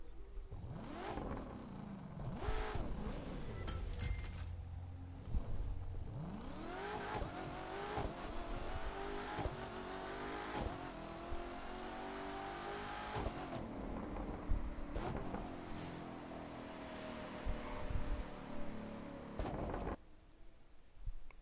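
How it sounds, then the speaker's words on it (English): A car in The Crew 2 drives past as rising and falling engine tones sweep through, accelerating and shifting in several passes, loud and close, with no talking. "It sounded like a electric car."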